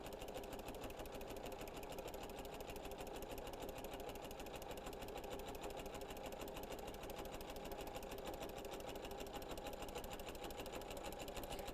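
A sewing machine runs steadily on a quilt-as-you-go rag quilt, its fast even stitching rhythm continuous and close throughout, with no talking.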